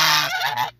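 A single goose gives a short, loud, nasal honk at a ranch, close to the microphone and heard alone.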